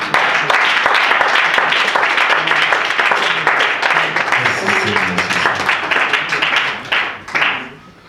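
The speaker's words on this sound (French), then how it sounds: "Est-ce qu'on peut acclamer le Seigneur?" Church congregation applauding during a sermon, dense sustained clapping from many people with a few voices mixed in, tapering off at the end.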